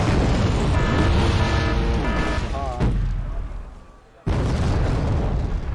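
An anti-tank gun fires in a video game battle around the Busan pocket: heavy booms and blasts under in-game voices, followed by a sudden drop to near silence and then an abrupt loud burst.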